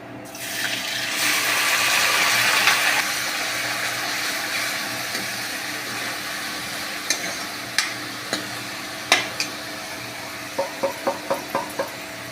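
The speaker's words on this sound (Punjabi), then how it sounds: "ਤੇਲ ਜੀ ਆਪਣਾ ਗਰਮ ਹੋ ਚੁੱਕਿਆ ਆਪਾਂ ਪਾ ਦਾਂਗੇ ਪਿਆਜ਼" Chopped onions hit hot oil in a pan for a curried vegetable dish and break into a loud, bright hiss that slowly settles to a softer sizzle, with sharp clinks of stirring toward the end.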